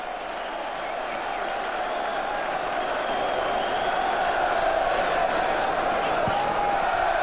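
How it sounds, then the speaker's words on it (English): Football stadium crowd at an FA Cup fifth round match between Wimbledon and Manchester United, applauding and cheering a goal as a steady, dense roar of clapping and voices that holds loud and even throughout. "even the Wimbledon fans are applauding."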